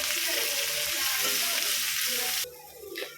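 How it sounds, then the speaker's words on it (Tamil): Onions and green chilies sizzle loudly in hot oil with a steady crackling hiss, which suddenly drops away and leaves a quieter scraping stir near the end. "இதோட பச்சை மிளகாயும் சேர்த்துக்கிட்டு இதை கொஞ்சம் வதக்கிக்கிடுவோம்."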